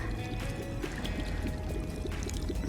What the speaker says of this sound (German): Jetzt ein bisschen Wasser.